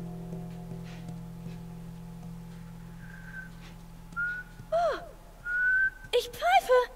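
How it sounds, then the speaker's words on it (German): A person whistles in The Last of Us, a few short, clear tones that grow louder and more frequent toward the end over a low steady hum, with a voice-like sound briefly mixed in. "Ich pfeife!"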